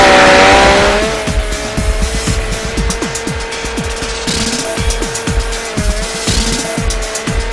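A winch with a steel cable hauls an overturned van back onto its wheels. A loud, sustained mechanical whine shifts pitch slightly while rapid, regular clicks and ticks run underneath throughout, close and unbroken by talk.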